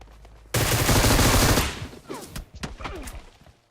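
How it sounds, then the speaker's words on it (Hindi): A loud burst of rapid gunfire in the PUBG Mobile battle game lasts about a second, followed by scattered quieter shots and clicks. "अब देखो दूर कहीं से गोली चल रही होती है"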